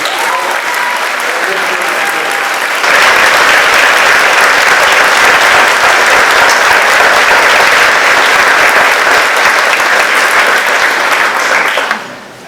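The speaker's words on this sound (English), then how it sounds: "Could we have a round of applause?" Applause from a crowd at a new high school dedication ceremony starts modestly, swells into loud, dense clapping after a few seconds, then cuts off abruptly near the end.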